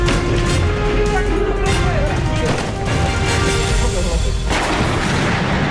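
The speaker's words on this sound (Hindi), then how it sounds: "ताबड़तोड़ गोलियों की आवाज, रॉकेट लॉन्चर से धमाकों की गूंज, AK-47 से बरसती गोलियां" Rapid bursts of AK-47 gunfire crack and echo over a dense, rumbling background, with heavy rocket-launcher blasts mixed in and a chaotic, sustained barrage.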